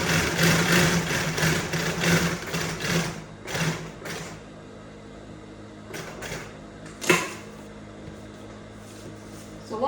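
A sewing machine stitches Aso Oke fabric in a fast, whirring run at the start, then slows and stops, with scattered clicks and handling knocks afterward, close up.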